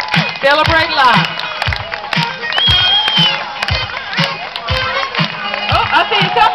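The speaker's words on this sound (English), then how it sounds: "Y'all keep that clapping up." An outdoor crowd at a nighttime Relay for Life event in Montgomery County, Georgia, cheers, whoops and claps steadily as survivors walk onto the field, while a voice calls out over the noise throughout.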